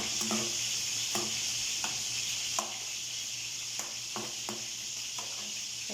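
Sarsiado fish seasoning being stirred in a hot pan, with a steady close sizzle of frying broken by repeated scraping strokes of the spoon against the metal.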